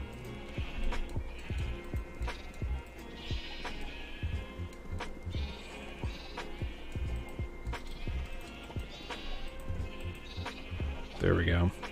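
Several sheep bleat in a Minecraft-style survival game, wavering calls repeating at moderate distance amid clicking footsteps and block sounds, and a voice speaks briefly near the end.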